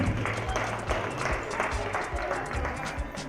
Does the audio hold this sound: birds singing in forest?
no